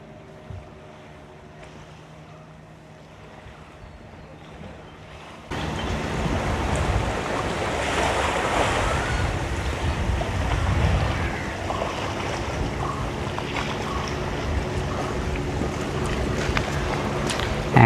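Calm morning sea waves at a beach resort in Devbag, a soft low wash that is quiet at first and then turns louder and fuller with wind buffeting the microphone, continuing steadily with no talking.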